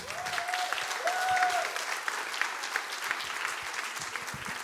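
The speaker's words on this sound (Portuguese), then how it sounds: "Uma salva de palmas." A crowd claps steadily for several seconds, dense and sustained, with a brief whistle-like tone near the start.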